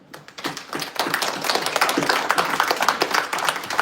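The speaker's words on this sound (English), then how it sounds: "I do give a warm round of applause to the presentation from Brett." An audience applauds after a presentation at a finance and AI hackathon talk session, a dense patter of many hands clapping fairly close and loud for a few seconds.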